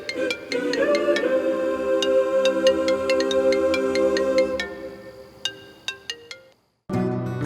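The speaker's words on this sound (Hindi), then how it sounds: "तुम्हारा फोन बज रहा है श्रवण।" A phone ringtone plays: a bright electronic melody of repeated tones, loud and steady, then a few separate beeps, a short silence, and the tune resuming.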